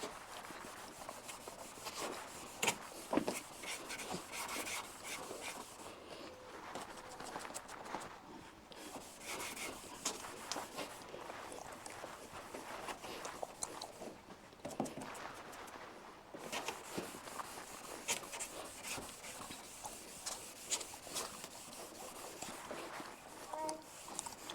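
Toothpaste is rubbed onto a foggy car headlight with a cloth, making a steady, close scrubbing hiss broken by brief pauses, with scattered knocks and scuffs in between.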